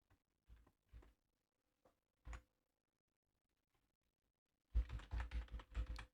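An email address is typed on a computer keyboard while creating a Ubisoft account: a few sparse, separate key taps, then a quick burst of rapid clicking near the end, close and quiet.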